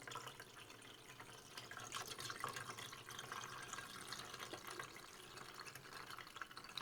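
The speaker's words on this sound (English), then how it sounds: "And we just pour all of that in as well." Orange juice without bits pours into a Ninja Slushi machine in a steady, continuous stream, a soft gurgling splash that holds evenly without pause.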